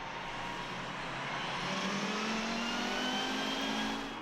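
Race cars lapping Monza in the 2014 Lamera Cup endurance race, a steady loud engine roar with rising whine as the cars accelerate past, continuous throughout with no talk.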